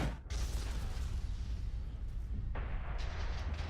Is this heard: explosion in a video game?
yes